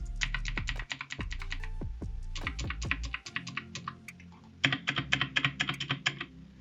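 Keys on a DIERYA DK63W mechanical keyboard clack in rapid bursts of sharp, crisp clicks, close and fairly loud, with brief pauses between flurries of typing.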